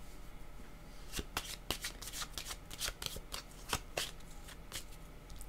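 Tarot cards are shuffled by hand up close, a run of crisp riffling bursts and soft slaps at an irregular rhythm, with no talking over them.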